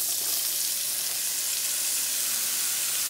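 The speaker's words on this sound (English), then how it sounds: "Pull your shrimp in." Shrimp sizzle in melted butter in a skillet that was just used to cook steak. The sizzle is a loud, steady, bright frying hiss that runs close and unbroken, with no voices.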